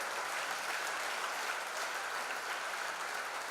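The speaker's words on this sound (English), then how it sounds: "So a big round of applause for all our dignitaries that we have with us in the audience this evening." An audience at a city's State of the City address applauds its dignitaries, a uniform, fairly quiet wash of many hands clapping that continues steadily throughout.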